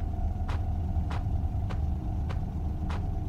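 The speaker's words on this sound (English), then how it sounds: "why I hear a car still?" Car passing at night, a low steady engine rumble with road noise, moderately distant, accompanied by a few regular faint clicks.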